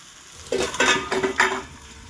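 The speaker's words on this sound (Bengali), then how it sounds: "আর এই তেলের মধ্যে ভেন্ডিগুলোকে দিয়ে দিলাম" Okra coated in gram flour drops into hot oil and erupts in short, bright bursts of sizzling, three or four surges close up before settling back.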